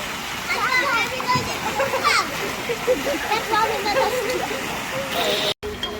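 Children shout and play in a swimming pool with water splashing throughout, a busy noisy scene of voices and splashes up close.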